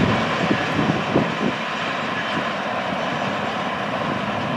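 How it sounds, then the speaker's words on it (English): A long freight train rolls steadily past at night on a main line, a continuous broad rumble and wheel noise, loudest at the start and then holding even. "They got a long train tonight,"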